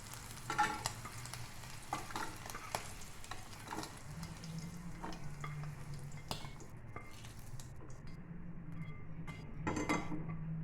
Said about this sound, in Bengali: চিংড়িগুলো লাল লাল করে ভাজা হয়ে গেছে